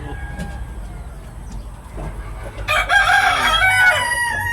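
A crossbred rooster crows loudly and close by in the second half, a long harmonic call after a quieter stretch of faint background noise.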